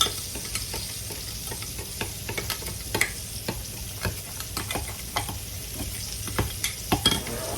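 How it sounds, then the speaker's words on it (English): A spoon repeatedly scrapes and taps through brown sugar gravy for pork chops simmering in a pan, irregular clicks over a soft, continuous low sizzle. "So I'm going to stir this up."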